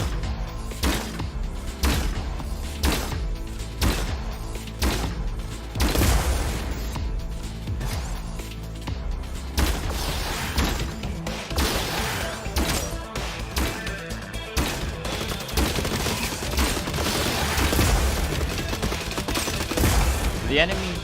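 Robots fire at each other in the video game Gladiabots, with rapid bursts of gunfire and sharp impact cracks repeating steadily throughout, loud and busy.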